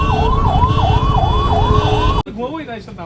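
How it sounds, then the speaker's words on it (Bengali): An ambulance siren wails in a repeating rising-and-falling pattern amid a traffic jam, loud and close over engine rumble, then cuts abruptly and continues more faintly with a different tone. "অ্যাম্বুলেন্স ফেসে আছে এর মাঝখানে একটা"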